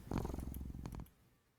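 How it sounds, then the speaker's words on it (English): A cat in a horror video game purrs sleepily, a close, soft rhythmic rumble lasting about a second before fading into quiet. "you listen as the cat pads over to you before laying down and purring sleepily"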